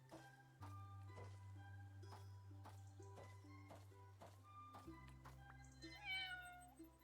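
A cat meows with a rising, wavering call near the end, inside Fresh Start Cleaning Simulator, heard over steady background game music.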